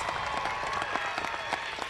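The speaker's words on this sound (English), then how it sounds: "Can I please get a round of applause for the graduating class of 2023?" Applause from a high school graduation crowd for the class of 2023, a dense, steady wash of many hands clapping at close range with no talking.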